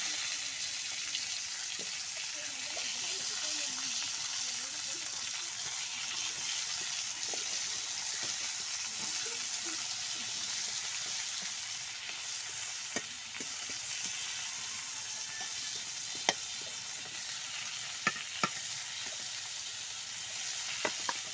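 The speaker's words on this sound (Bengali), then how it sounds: "এগুলোতে লবণ হলুদ মাখিয়ে এটা এখন ভেজে নিচ্ছি।" Pumpkin pieces coated with salt and turmeric fry in a kadai with a steady, moderately loud hiss and sizzle, broken by occasional scraping stirs and clicks; no talk.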